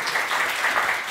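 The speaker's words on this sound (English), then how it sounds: "You guys can clap." Audience clapping at an academic symposium session, a short burst of scattered hands, moderately loud and close, with no voices over it.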